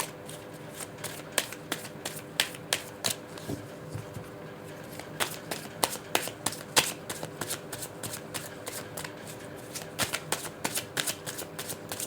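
Tarot cards being shuffled and drawn by hand, giving a run of quick, crisp riffling snaps and soft papery slaps, close and fairly quiet, with no talk over them.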